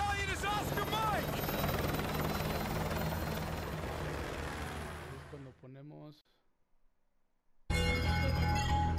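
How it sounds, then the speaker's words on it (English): A military helicopter in the video game Call of Duty Modern Warfare 2 thuds loudly and steadily, briefly cutting to near silence before the rotor roar suddenly returns. "I'll brief you on the chopper."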